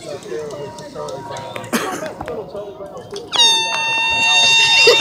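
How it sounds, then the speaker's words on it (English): A loud air horn on a small boat in an evening boat parade blares out over the last couple of seconds, growing louder. Scattered knocks, a cough-like burst and crowd noise come before it. "That's like putting a train horn on a Honda."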